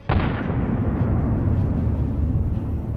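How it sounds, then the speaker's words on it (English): An anti-tank mine detonates beneath a Russian military vehicle in a war zone, a sudden loud blast with a sharp onset followed by a sustained, heavy rumbling roar that fills the whole stretch without pause. "an anti-tank mine suddenly shattered all of the Russians' plans."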